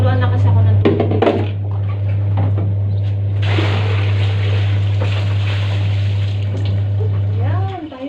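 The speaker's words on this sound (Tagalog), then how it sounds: "nagtuluan na kasi ako ng tubig dito." Water runs from a tap into a basin for hand-washing laundry in a home in Bahrain, a rushing gush starting partway through over a steady electrical hum, with a voice heard early on.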